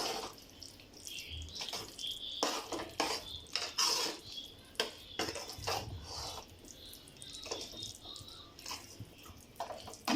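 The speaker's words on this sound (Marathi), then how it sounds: "आता या आपल्या भाज्या सगळ्या आपल्याला व्यवस्थित एकजीव करून घ्यायच्या आहेत" Vegetables for pav bhaji being mashed and stirred in a pan, with repeated metallic scraping and clanking of a utensil against the pan in an irregular rhythm, fairly close and moderately loud, no talking.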